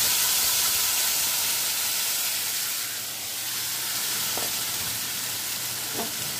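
Marinated hilsa fish pieces hit hot oil in a pan for korma, giving a loud, steady, close sizzle and hiss that holds throughout, with a couple of faint utensil clinks near the end.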